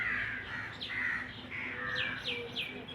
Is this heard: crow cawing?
yes